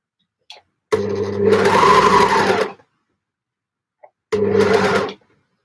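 A home sewing machine runs in two bursts while finishing gable tops: a long stitching run of about two seconds, a pause, then a shorter run, each steady and close, with faint clicks before each start.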